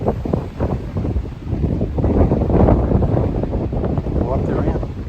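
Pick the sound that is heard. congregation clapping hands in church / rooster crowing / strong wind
strong wind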